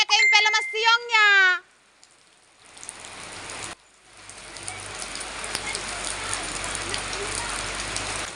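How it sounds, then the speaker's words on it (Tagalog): A voice briefly sounds at the start, then after a short pause heavy rain sets in as a dense, steady hiss of drops pattering on surfaces that carries on to the end. "sobrang lakas ng ulan"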